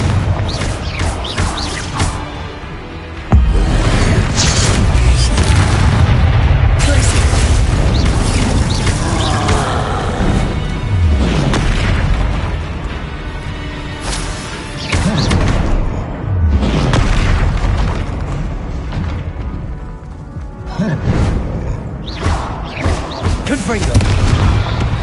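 Repeated Confringo fire-spell explosions from the Hogwarts Legacy video game, a series of loud, deep booms and crashes over continuous dense game noise, with a voice calling out spell names.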